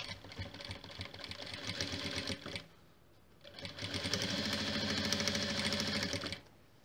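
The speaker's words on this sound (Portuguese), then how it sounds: "Vou começar a costura aqui dessa ponta e venho seguindo até chegar à marcação de 1 centímetro" A sewing machine stitches fabric for a coaster in two long motorized runs, a steady rapid whir with a brief pause between them and no talking.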